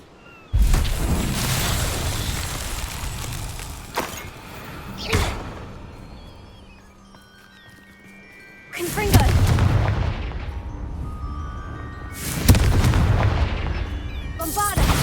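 Spell blasts from the Hogwarts Legacy video game, loud booming explosions in heavy bursts with quieter stretches between them, and a voice shouts briefly during the action.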